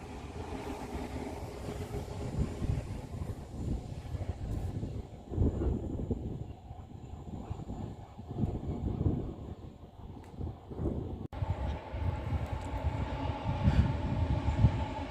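The delayed 17:51 Manchester Airport to Barrow-in-Furness train rolls past, a steady broadband rumble of wheels and rail noise with some wind buffeting on the microphone, swelling in a few surges before a brief cut and a resumed close roar.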